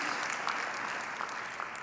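Audience applause at a master's degree convocation for a college of communication, a steady, even wash of clapping that fills the short stretch without any voices over it.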